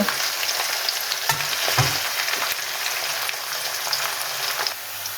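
Medium chopped onions frying in hot oil for a potato and fenugreek dish, a steady loud crackling sizzle heard up close, broken by a couple of dull stirring thumps, with no one talking.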